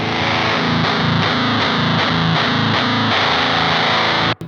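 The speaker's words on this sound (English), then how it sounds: "on the other side, we got the chainsaw channel." Electric guitar through the chainsaw channel of an HM2-style distortion pedal for Swedish death metal, grinding out a fast, buzzy riff of repeated distorted notes before stopping abruptly.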